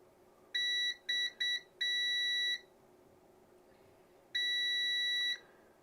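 Multimeter in continuity mode beeping during a PlayStation 1 modification, giving a series of short clear tones and then one longer beep, close by with no talk.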